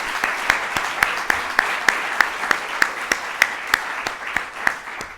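Steady applause from an audience at a tech press conference, honoring Miami's mayor, with sharp individual claps standing out in a regular rhythm over a dense wash of clapping; moderately loud and sustained throughout.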